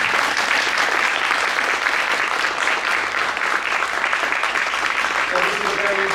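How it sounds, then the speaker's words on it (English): Conference audience members clap for emerging scholar award recipients, a dense, continuous round of applause at even volume, with faint voices surfacing near the end. "We'll give them a round of applause."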